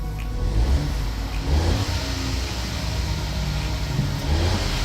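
Close, steady hum of a Ford 1.0 EcoBoost Fiesta engine just after an exhaust flexi pipe repair, with a few light blips of revving and no speech.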